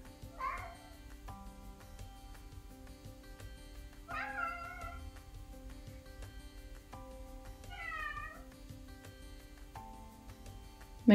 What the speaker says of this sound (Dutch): Mijn kat zegt ook eventjes hallo.